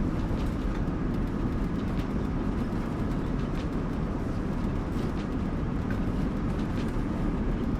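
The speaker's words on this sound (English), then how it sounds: "I love the sounds of the train, like just the squeaking" A train runs in Train Sim World 4 with a loud, steady rolling rumble that never lets up. Faint, brief high squeaks and clicks from the wheels and rails cut through now and then.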